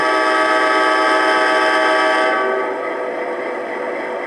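A loud, steady model train locomotive horn, an Atlas Genesis engine, blares continuously with a buzzy, harmonic tone, easing slightly softer toward the end.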